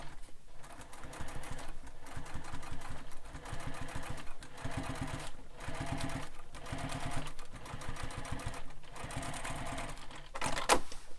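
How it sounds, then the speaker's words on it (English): A sewing machine top stitches through several pressed fabric layers of a sling pack, running close and continuous with a fast, even rhythm and no talking. "So now we need to top stitch this, going through all those layers that we just pressed."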